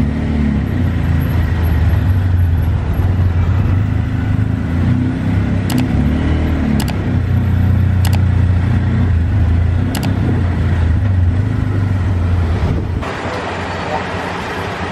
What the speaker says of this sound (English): today my tuk-tuk sounds very loud